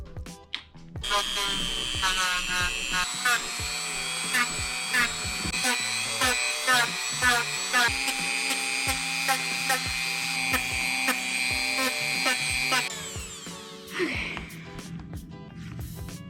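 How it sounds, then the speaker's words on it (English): A Dremel rotary tool shapes foam for lobster armor, whining steadily at high speed for about twelve seconds with pitch shifts as it bites into the foam, then cutting off, followed by brief handling noises. "So anyway, I'm going to start dremeling."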